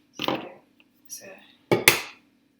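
Eggs cracked into a jug for Yorkshire pudding batter give a few sharp knocks and crunches, close and clear, with short pauses between them.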